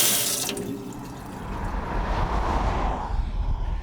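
Water from a household tap pours in a steady splashing stream, close and fairly loud, with a brief brighter burst at the start before settling into continuous flow; no talking.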